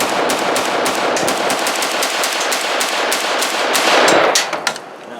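A Midwest Industries GAU5A ASDW takedown survival pistol fires a rapid, loud string of shots at an outdoor range, the reports running close together before stopping near the end.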